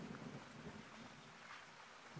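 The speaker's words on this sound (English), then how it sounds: "And here comes the thunder." Faint, distant rumbling thunder over steady rain on safari, low and rolling rather than sharp cracks.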